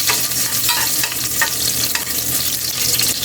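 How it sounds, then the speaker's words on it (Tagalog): Kaili (chili leaves) and beef are stirred in a hot frying pan, a close, loud, continuous sizzle broken by scraping strokes of the spatula, with no talking. "Haluin na muna natin ito kaili."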